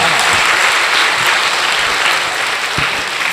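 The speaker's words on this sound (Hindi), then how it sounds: "एक बार सारा सदन बजा दे" Audience in a packed hall at a Hindi poetry and comedy gathering breaks into loud, dense applause that holds steady and continuous throughout, with no voices over it.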